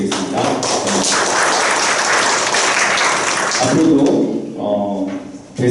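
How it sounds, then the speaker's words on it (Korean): Audience applause at a memorial ceremony presenting a commemorative anthology; dense, loud clapping rolls for several seconds, then thins and fades as a voice begins to be heard. "네, 부재회장님께 다시 한번 큰 박수 부탁드리겠습니다."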